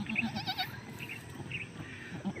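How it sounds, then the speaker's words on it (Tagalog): A large goat bleats several times in quick succession early on, followed by softer calls, close by over light background noise, with young kids present. "Malaking kambing to."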